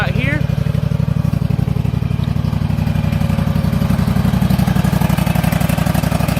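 A vehicle engine idles steadily after starting, warming up with a continuous low, rhythmic chug that stays loud and near throughout, the vehicle sitting with debeaded tires.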